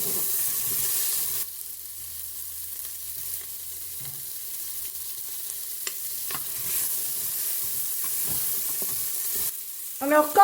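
Paella ingredients, including half a bell pepper, sizzle as they are stirred in a Cookeo multicooker, a low steady frying hiss with occasional soft scrapes and clinks from the spoon.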